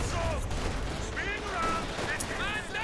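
Machine gun fire and other battle sounds from the strategy game Company of Heroes 2, with rapid bursts and scattered shots over a noisy background as a voice talks quietly underneath.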